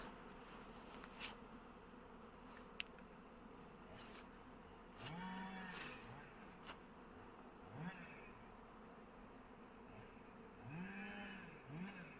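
Bees humming steadily at an apiary, a dense continuous buzz with individual insects passing close by, under a few soft bleating calls.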